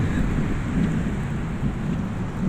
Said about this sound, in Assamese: অলপ বৰষুণ আহি আছে, এয়া ষ্টাৰ্ট হৈছে